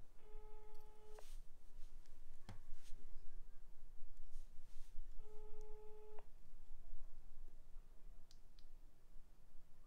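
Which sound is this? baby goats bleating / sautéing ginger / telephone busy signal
telephone busy signal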